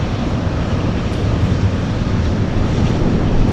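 UPS Boeing 747 airliner at Anchorage, a loud, steady broadband roar of jet engines with wind-like rushing, continuous throughout.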